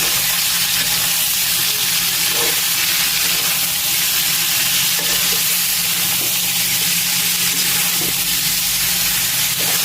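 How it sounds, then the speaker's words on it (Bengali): Food frying in a pan and being lightly stirred, giving a steady loud sizzle and hiss throughout with a few soft utensil knocks against the pan. "হালকা করে নাড়িয়ে দিব।"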